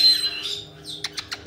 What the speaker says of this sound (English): Spiky Bird's up there.